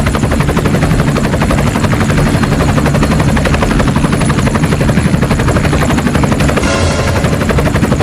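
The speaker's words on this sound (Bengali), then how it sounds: "ভাইয়া, উপর দিয়ে হেলিকপ্টার যেতেছে" A helicopter passes overhead with a loud, continuous rotor chop and whine that stays strong and unbroken throughout, drowning out everything else.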